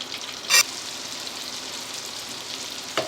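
Garlic fries in butter for zuppa soup, giving a steady close sizzle throughout, broken by two brief sharp scraping stirs.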